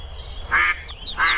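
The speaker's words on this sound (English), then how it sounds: "And a baby duck. And they're quacking." Ducks quacking at a park duck pond, two loud, close bursts of nasal quacks with a short pause between them and no talk over them.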